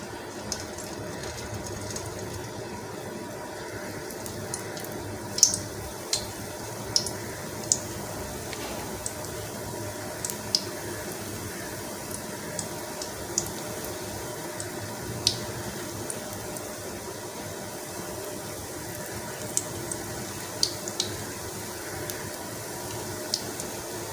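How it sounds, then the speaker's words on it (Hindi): Dahi bhalla batter fries in hot mustard oil, a steady close sizzle and bubbling with scattered small pops and drips throughout. "ये हमारे सरसों का ऑयल गर्म हो चुका है और अब हम इसमें डाल रहे हैं दही बड़े"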